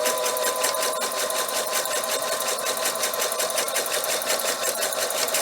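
A sewing machine runs steadily and loudly at close range, its needle hammering in a fast, even rhythm while stitching the curved ear of a fabric bunny bag with no pause.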